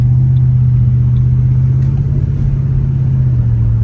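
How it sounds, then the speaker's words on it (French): A V8 car engine rumbles steadily from inside the cabin while driving at moderate speed, a loud, constant low drone with slight swells in pitch and no voices over it. "Le son du V8, il est incroyable."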